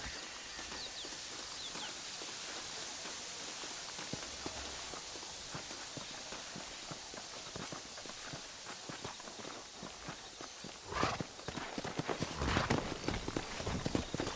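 Rhythmic hoof clip-clop of a horse at a steady walk in the video game Red Dead Redemption, continuous over a dense ambient bed, with a couple of brief louder bursts near the end.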